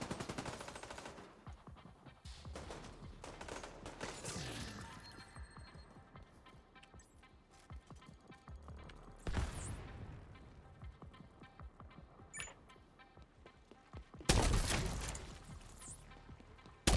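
Gunfire in a shooting game, scattered shots and bursts going off across a steady background of play, with sharper loud cracks standing out near the middle and the end.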